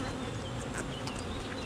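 Honeybees buzzing at a hive during a spring honey harvest, a dense steady hum of many insects close by, fairly faint and without talking.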